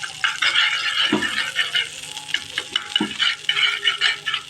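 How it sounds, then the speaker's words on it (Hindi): Melting candle wax is stirred in a pan over low heat for a homemade cracked-heel cream, with continuous close scraping and swirling, light rattles and a faint sizzle, and no speech. "जब तक ये अच्छी तरह से मेल्ट नहीं होती हम इसको हिलाते जाएंगे हल्की आंच पे"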